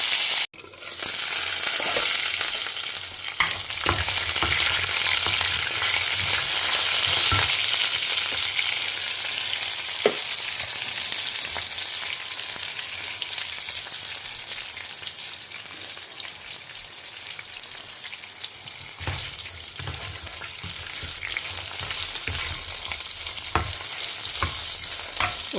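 Lentils sautéing in a pan with oil, a continuous bright sizzle and crackle with occasional stirring scrapes, steady and close throughout, no talking.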